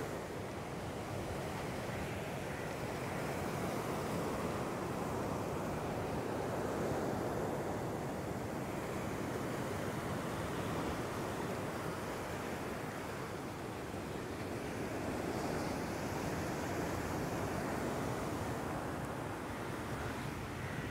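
Sea waves surge onto a shore that the water is steadily encroaching on, a continuous loud broadband roar of surf with wind noise, swelling slightly midway and at the end, with no talking.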